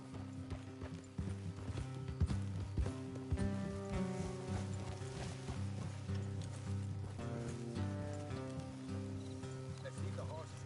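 Steady clip-clop of horse hooves walking, with creaking tack, over a background of soft music and ambient tones.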